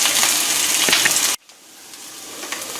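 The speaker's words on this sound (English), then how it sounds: "And I know you can hear the sizzle in the background over there." Onions sauteing in a pan give a steady bright sizzle that runs throughout, with a short abrupt drop partway before the frying hiss resumes at a lower level.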